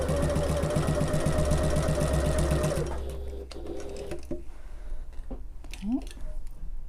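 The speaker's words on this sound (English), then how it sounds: "So we want to be top stitching on the right side." A sewing machine top stitches a sling bag, running in a fast, steady mechanical rhythm for about three seconds and then stopping, followed by quieter handling sounds while someone talks.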